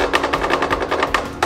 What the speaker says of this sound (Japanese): めっちゃ木がきしむ音が全体からする